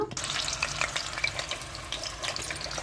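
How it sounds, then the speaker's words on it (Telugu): Eggs frying in oil in a pan for egg masala curry, a busy crackling sizzle with sharp pops and spits scattered throughout, close and steady, with no talking. "గుడ్లు వేస్తానండి ఇప్పుడు పసుపు వేసుకుందాము ఎర్రగా వేపేసుకోవాలి గుడ్లని"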